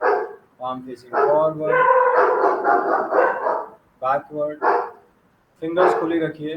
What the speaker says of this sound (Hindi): पीछे कुत्ते की आवाज आ रही है